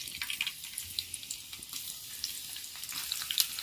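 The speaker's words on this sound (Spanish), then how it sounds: "Ahora le voy a poner cebolla" Onion frying in oil in a small pan, a faint continuous crackling sizzle with scattered tiny pops, close by and steady, with no voices.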